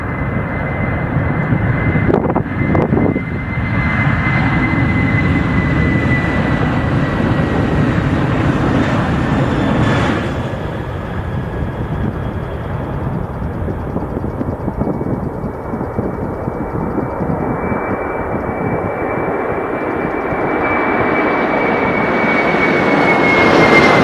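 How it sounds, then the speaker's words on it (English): Stratolaunch aircraft, a giant twin-fuselage plane, taking off on a test flight at Mojave airport: loud sustained engine roar with a steady whine, swelling as it passes. "Y ahí lo vimos despegar en el aeropuerto de Mojave, en ese nuevo vuelo de prueba del Stratolaunch."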